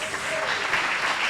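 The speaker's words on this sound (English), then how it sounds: "Some applause, please." Audience at a civic Future of Walnut Creek event applauds a sponsor, F&M Bank, with a brief, steady burst of clapping from a crowd that fills the short moment.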